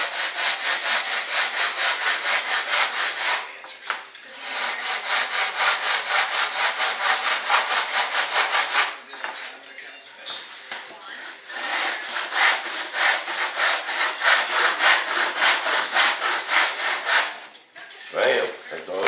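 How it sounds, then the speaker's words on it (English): A 36 grit sander works over the foam of an RC F-105 Thunderchief jet, making a close, hissing, rasping drone in long passes with a few short pauses and no talk. "let your sander rest on there till you get the right angle without pushing too much on that foam"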